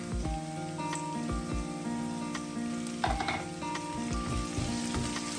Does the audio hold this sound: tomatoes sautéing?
yes